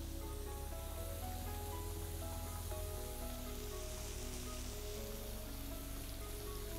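Butter with sunflower oil added sizzles steadily in a pan, a continuous crackling hiss at even loudness throughout, with faint tonal music underneath.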